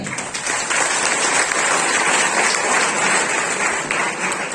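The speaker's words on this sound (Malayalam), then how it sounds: "ഇതിന്റെ റിസൾട്ട് കിട്ടിയ ആൾക്കാർ മാത്രം ഒന്ന് കൈയടിക്കുക" An indoor audience claps together in a dense, loud burst of applause lasting several seconds, steady throughout with no voices over it.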